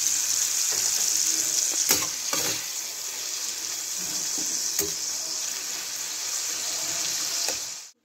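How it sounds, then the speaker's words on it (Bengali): Prawns sizzle lightly in white oil for a chilli prawn dish, a steady close hiss broken by a few sharp scrapes of a stirring utensil before the sound cuts off abruptly. "চিংড়িগুলো একটু ভেজে নেবো, একদম অল্প করে ভেজে নেবো"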